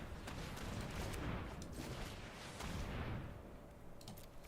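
Fireworks go off outside, a dense, continuous run of muffled crackling pops and booms at a distance, steady for several seconds, with a few sharper bursts near the end.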